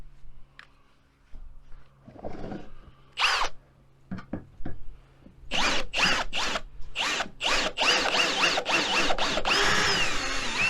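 A power drill bores into plastic while repairing a Toro zero-turn mower, starting with brief bursts and stops, then settling into a series of rapid, loud drilling pulses near the end.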